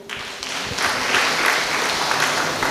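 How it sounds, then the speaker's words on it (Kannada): Audience members clap at the general meeting of the Nelyadi primary agricultural credit cooperative society, applause swelling in over the first second and continuing as a steady, fairly close patter. "ಒಂದು ಚಪ್ಪಾಳೆಯನ್ನು ಕೊಟ್ಟು ನೀವು"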